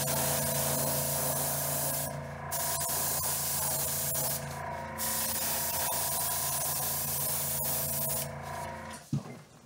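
A spray gun shoots pearlized magenta paint over a black base coat in a steady, close, loud hiss, broken by three brief pauses in the trigger.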